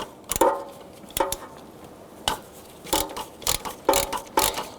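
A stud remover tool working on a stud in the engine bay of a 2006-2012 Toyota RAV4 during a water pump replacement, a series of sharp ratcheting clicks in short, irregular bursts, close and fairly quiet.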